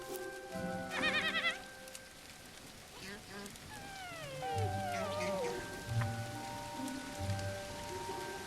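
Rain patters softly in the Hawthorne video game, a faint steady hiss beneath bleating animal calls, a chiming tone and a brief burst of rattling clicks.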